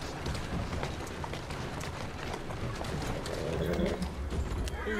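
Hooves pound steadily in a fast gallop in the video game Assassin's Creed Syndicate, loud and close, over a dense rumbling background with a faint voice briefly underneath.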